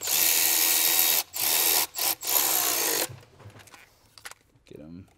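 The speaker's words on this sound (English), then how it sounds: "Put that on, and then we can go ahead and tighten these up." Bolts are tightened by hand on a Ford 6.7L Power Stroke fuel system kit. A close ratchet whirs in three bursts, then quieter metallic clicks and handling noises follow.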